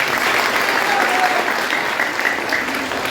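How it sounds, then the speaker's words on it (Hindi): Schoolchildren at a government school parliament-awareness program clap together in loud, steady, even applause that fills the room and holds at a constant level throughout. "तो तालियां बजाओ इसी बात पर"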